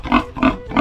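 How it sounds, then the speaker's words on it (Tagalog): A farm pig about two months old grunts in its pen, three loud, close snorting grunts in a steady rhythm with short pauses between them and no talk over them. "Baboy ni Mama nasa gitna."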